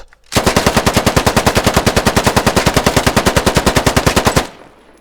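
Long unbroken burst of automatic rifle fire from the game Squad, dozens of rapid, evenly spaced loud shots lasting about four seconds before stopping abruptly, with no talk over it.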